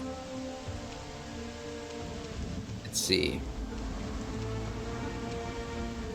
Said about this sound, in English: the rain's kind of nice